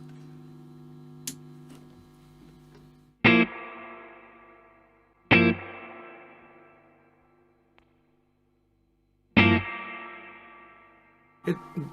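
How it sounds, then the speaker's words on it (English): Clean electric guitar chords through a Mesa Boogie Lonestar amp's clean channel strum a few times, each spaced apart and trailing off into a soft, warm reverb tail, with quiet amp hum between. "The warm reverb, it's kind of sits beneath your"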